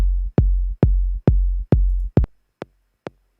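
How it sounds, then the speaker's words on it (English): A kick drum, high-pass filtered at 700 Hz, thumps in a steady run of about seven deep hits, then a few shorter, thinner clicks follow with gaps between them, alone. "this is a kick drum that I have made myself and saved"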